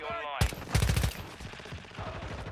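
Heavy AMR anti-materiel rifle shots in Warzone Mobile, a few loud punchy cracks in quick succession with echoing tails, game sounds and voice around them.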